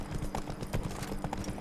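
Horses trot in The Witcher 3 with quick, even clip-clop hoofbeats over a brief stretch, sounding fairly close.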